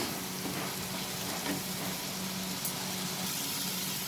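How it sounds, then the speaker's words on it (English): Prawn masala sizzles and fries steadily in a pan, a continuous soft crackle throughout with no talking. "Let us saute it for a minute."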